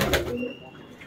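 Domestic pigeons cooing close by at a pigeon seller's place, a short throaty coo followed by softer murmuring, with no talk over it.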